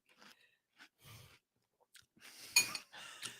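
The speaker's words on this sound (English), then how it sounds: "And I am now going to take a bite." Someone bites into and chews a crunchy piece of food close to the microphone, in sparse crisp crunches separated by quiet pauses, a louder burst near the end.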